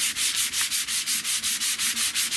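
Sandpaper is rubbed by hand over the rusty metal roof of a 1970 Buick Wildcat, a close, steady back-and-forth rasp of about a dozen even strokes with no talking.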